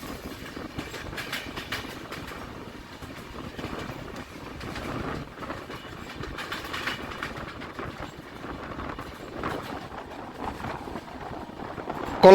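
Barbil Jan Shatabdi Express on the Howrah–Tatanagar line running at speed, a steady rumble with rhythmic clickety-clack of wheels over rail joints, continuous and fairly loud throughout with no voices.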